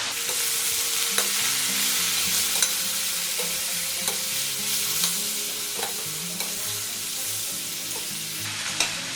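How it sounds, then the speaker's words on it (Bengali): Mutton pieces sautéing with turmeric, chilli and coriander powder for a mutton salan, a steady loud sizzle with frequent scraping and stirring clicks from a spatula, no voices. "এখানে আমার 700 মটন আছে, এটা আমি দিয়ে দিচ্ছি। দিয়ে দেবো একটু হলুদ পাউডার, লঙ্কার পাউডার আর ধনের পাউডার।"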